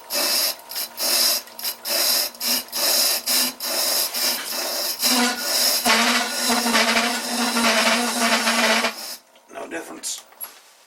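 A lathe parting tool cuts a v-groove into a vintage round leather belt pulley, giving rapid bursts of harsh, grinding chatter that turn into a longer continuous screech before stopping abruptly, with a few faint trailing scrapes.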